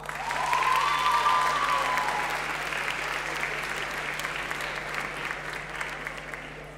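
An audience at a young talent showcase applauds before a cello performance, with full, even clapping that swells early, then tapers gradually, a whistle briefly riding over the top.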